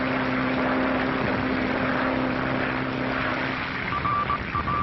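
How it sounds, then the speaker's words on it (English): A steady, droning propeller plane engine on a 1937 Atlantic flight fills the clip with a dense, continuous roar that shifts slightly in pitch, like an old radio recording. "Dick Bennett, who is piloting his plane through terrific storms across the Atlantic Ocean"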